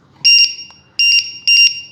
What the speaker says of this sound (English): this will get you good voltage alarm